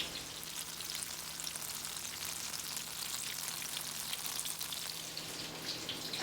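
Peach fritters deep frying in hot oil give off a steady, soft sizzle with fine bubbling crackle that stays even throughout, and no voices are heard.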